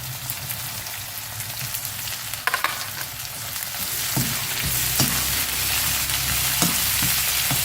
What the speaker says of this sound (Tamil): கருவேப்பிலை மூணையும் போட்டுக்கலாம் வெங்காயம் கூடவே நல்லா வதங்கட்டும்